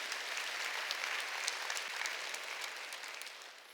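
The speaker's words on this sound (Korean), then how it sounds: "깨달은 사람만 박수 쳐." A church congregation claps together during a Sunday worship sermon, a dense, steady patter of many hands that carries evenly throughout and tapers slightly at the end.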